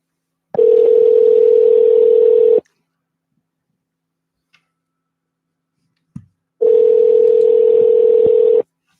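Two loud, steady telephone tones each hold for about two seconds, separated by silence broken only by a faint click and a quick handset clatter just before the second tone.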